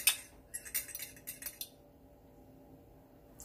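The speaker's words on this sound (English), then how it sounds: "I'm just gonna whisk this together" Metal whisk clinking against a bowl while mixing ingredients for gluten-free almond flour bread, a quick run of bright, close taps and scrapes that stops after about two seconds, leaving quiet.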